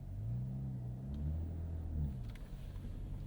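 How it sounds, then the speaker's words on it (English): The twin-turbo inline-6 of a 2025 Ram 1500 RHO sports truck on the road, a low engine rumble that swells and eases gently, heard fairly quietly and without talk. "Let's go ahead and get this RHO out on the road and show you what it's like to drive."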